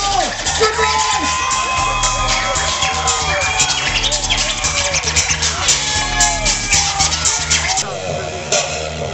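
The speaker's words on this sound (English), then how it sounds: "Give yourselves a big round of applause." A large, rainy, muddy outdoor festival crowd cheers, whoops and applauds loudly in rolling waves at the end of a set, with shouts rising above the constant roar of the audience.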